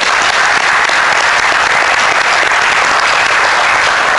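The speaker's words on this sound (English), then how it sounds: "let's give them a round of applause." Audience applause at a Texas Tech University System Board of Regents meeting, a steady, dense wash of clapping from a room full of people that holds evenly loud throughout.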